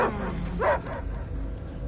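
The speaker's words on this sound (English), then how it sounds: "I hear only barking." A dog named Cosmo from the video game Guardians of the Galaxy gives a couple of short, close barks and yips over a low rumbling game ambience.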